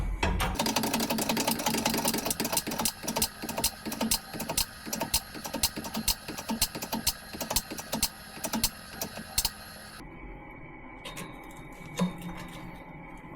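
Hand pump of a hydraulic tube bender being worked for a roll cage build, a dense run of rapid mechanical ticking and clacking close by for about ten seconds, then dropping to a quieter hum with an occasional knock.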